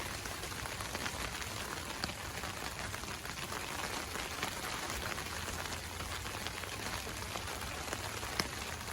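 Heavy rain pours down steadily on a campsite, a dense, even hiss of drops striking surfaces with no let-up, close and enveloping, with no talking.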